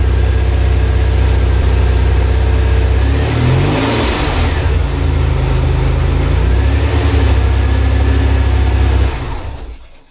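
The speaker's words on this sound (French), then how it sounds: "C'est déjà beaucoup pour une Maserati Biturbo de démarrer et de ne pas prendre feu" A Maserati Biturbo engine runs loud and close, with a steady rumble that rises briefly as it is revved midway, then falls back before cutting off abruptly at the end.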